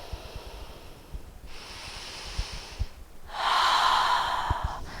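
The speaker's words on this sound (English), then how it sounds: "Last big inhale." Two slow, deep breaths during a yoga session, each a long airy inhale and exhale, close and clear, the second louder and fuller than the first.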